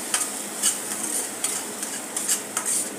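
Tomato purée being stirred and sautéed into a gravy in a pan, a low sizzle carrying brisk, irregular scrapes and clinks of a spoon against the metal, close and steady with no talking.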